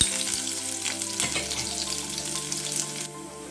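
Cumin seeds, a cinnamon stick, black cardamom and 3-4 finely chopped garlic cloves fry in hot oil, giving a steady, dense sizzle close by with crackling bursts, alone without talk.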